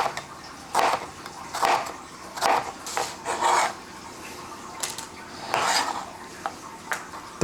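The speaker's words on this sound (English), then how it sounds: "We're going to get 2 jalapeno peppers. And we're going to do slices." A knife slices two jalapeño peppers on a cutting board, giving a run of sharp, close chopping knocks in an uneven rhythm, some in quick pairs, with short quiet gaps between them and no voices.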